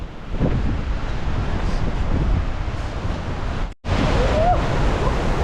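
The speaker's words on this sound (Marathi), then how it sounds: "आत्ताच पोचलोय जो छोटा धबधबा आहे तिथे आपण पोचलोय" A small waterfall at Thoseghar gives a loud, steady broadband roar, heard close, with wind buffeting the microphone and a brief dropout near the end.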